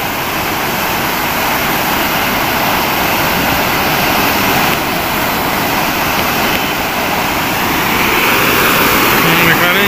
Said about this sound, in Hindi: कितनी तेज से चल रहा है ये पानी